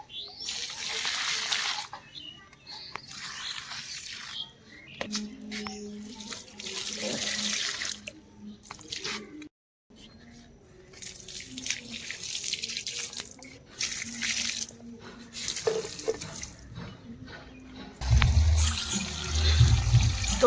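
Water runs and splashes steadily for watering dry potted plants in a village garden in Uttarakhand, a continuous close gush with brief breaks and a heavier burst of flow near the end.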